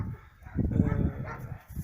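Captured stray dogs held in a shelter in the town of Hadiach, Ukraine, giving short whimpering barks and yips close by in a brief burst.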